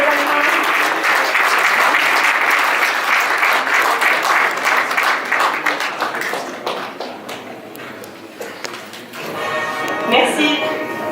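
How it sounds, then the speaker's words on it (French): A business award ceremony audience applauds the company Magency, a loud sustained round of clapping that tapers off toward the end as a voice begins to speak. "Je vous demande encore tous vos applaudissements pour la société Magency."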